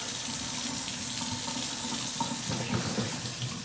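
Tap water runs steadily into a sink while a Dungeness crab is rinsed, a close, continuous splashing rush with small clinks of handling underneath.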